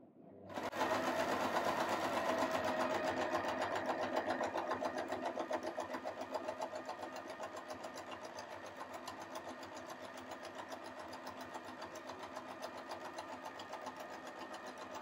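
A sewing machine fitted with a twin needle runs steadily while stitching a zigzag, a continuous close mechanical whir that starts abruptly and holds an even pace, with no talking.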